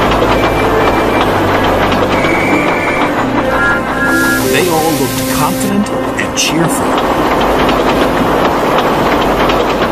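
Animated-show sound effects of train engines and coaches rolling steadily forward, a continuous rumbling, clattering rail bed with brief whistle-like tones, running under a narrator's voice throughout.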